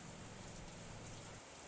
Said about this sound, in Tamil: கொஞ்ச நேரத்தில் டக்குன்னு செம்ம மழை வர ஆரம்பிச்சிச்சு.